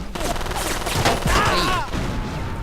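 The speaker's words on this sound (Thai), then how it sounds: "ใครมันยิงเรา" A burst of rapid gunfire from the futuristic shooter game Battlefield 2142 rattles close and loud in a dense fusillade, with a voice briefly heard amid the shots.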